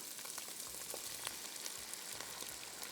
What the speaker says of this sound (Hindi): स्टर फ्राइड कुकिंग का जो स्टाइल है बिल्कुल वो ऐसा ही है।